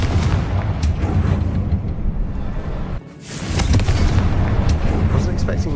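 A Confringo fire spell detonating in the wizarding game Hogwarts Legacy, a heavy booming blast with rumbling roar that cuts out briefly and then swells back, loud and close throughout.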